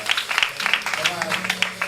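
Congregation at an Apostolic church service clapping hands in a quick, steady rhythm, sharp claps repeating throughout with voices mixed in underneath.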